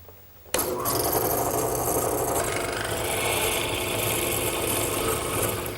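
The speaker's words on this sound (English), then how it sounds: "as the drill press pushes down, the drill will start the hole and the chisel will square it up" Drill press fitted with a hollow chisel mortiser cutting square mortises down into a wooden top rail for a garden bench, a loud continuous grinding, rasping cut starting abruptly after a brief quiet moment and holding steady to the end.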